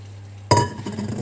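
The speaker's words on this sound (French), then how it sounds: "Et donc là, on vient remuer régulièrement pour l'omelette." Eggs poured onto olive oil in the pot of a Moulinex Cookeo on its browning setting give a sudden scraping, clinking burst of stirring after a low steady hum, then softer, uneven stirring noises close by.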